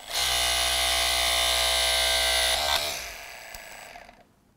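A battery-powered E-FORCE3 rescue cutter closes its blades with a loud, steady electric motor whine that holds for about two and a half seconds, then cuts off and fades into quiet.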